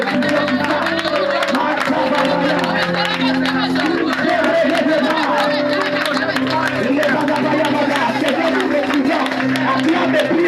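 A church congregation cheers and acclaims in a loud, continuous wash of crowd voices and scattered clapping, with a voice talking over the dense hubbub throughout.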